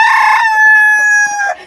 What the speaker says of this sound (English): And I realized he was a rooster.